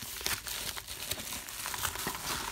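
Scissors slice open the plastic-wrapped packaging of a Vinegar Syndrome Blu-ray, a close, steady crinkling and crackling of plastic with small tearing bursts lasting a couple of seconds.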